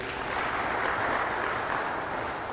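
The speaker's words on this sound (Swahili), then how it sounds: "naomba tumpigie makofi" A church congregation at Sacred Heart of Jesus Cathedral applauds a priest: dense, steady clapping from many hands, moderately loud and continuous from start to finish with no voices on top.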